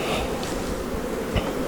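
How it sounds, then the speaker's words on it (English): Honeybees buzz loudly and steadily in an opened hive, a dense close-up drone with no talk over it. "There's lots of bees in there."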